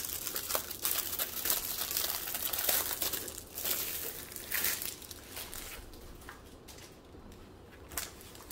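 A diamond painting canvas is handled inside a plastic bag, giving close, irregular crinkling and rustling that is louder early and softens toward the end.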